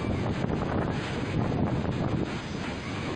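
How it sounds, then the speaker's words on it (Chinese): Strong typhoon wind roars across an open street, a loud, dense buffeting rush that holds steady without a break, churning hard against the microphone throughout. "突然大风袭来，3个人站不稳"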